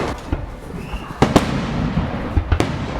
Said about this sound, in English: It's a bit ambitious at 9 o'clock at night in early June to be doing fireworks.